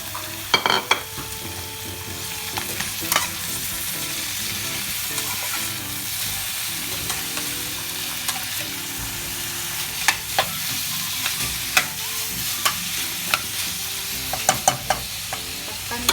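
Tomato sautéing with garlic and onion in a pan for ginisang upo makes a continuous loud sizzle, broken by frequent clicks and scrapes of stirring, with no talking.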